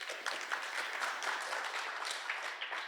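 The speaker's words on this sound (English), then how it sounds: "Give her a clap." A conference audience at a women's summit applauds an attendee, with steady dense clapping from many hands throughout.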